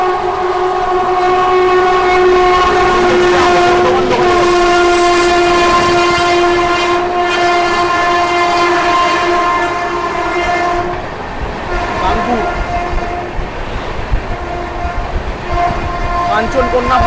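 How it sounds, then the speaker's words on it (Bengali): The New Delhi–Howrah Rajdhani Express rushes past at high speed, heard from aboard another moving express train: a loud sustained horn blast, a roaring wind and rail rumble, and rapid clickety-clack that fades as the train passes. "একদম দমকা স্পিডে আসছে রাজধানী, ডাউনে নিউ দিল্লি হাওড়া রাজধানী"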